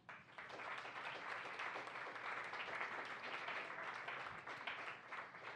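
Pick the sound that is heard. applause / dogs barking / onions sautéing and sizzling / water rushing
applause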